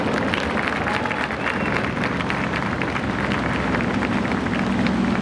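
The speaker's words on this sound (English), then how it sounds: "Let's have another round of applause for Mayor Pat Kramer." Loud, dense applause from an outdoor audience for the mayor at a park opening, continuous and close, with faint crowd murmur underneath.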